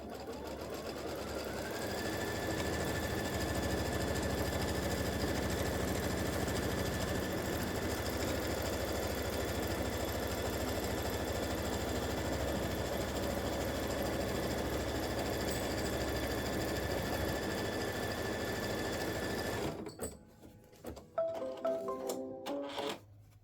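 An embroidery machine stitches a placement line on a turkey mug rug, humming in a loud, steady mechanical drone for about twenty seconds before stopping, followed by a few light clicks and handling noises.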